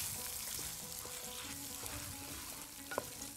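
Spices such as cinnamon, a stock cube and paprika sizzle steadily in a hot pan while being stirred, a continuous close crackling hiss with occasional scrape and clink of the spoon.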